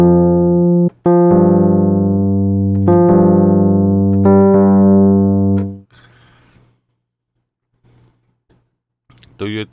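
Chords played from a Kontakt 6 sampler patch with a longer release, several loud sustained chords that fade with a short tail, followed by quiet talking.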